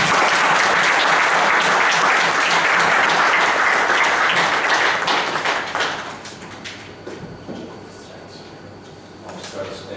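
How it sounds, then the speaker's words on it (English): An audience applauds at a multicultural business leadership speech, loud dense clapping for about six seconds that then fades away to a quieter room with scattered small knocks. "Let's give a big round of applause."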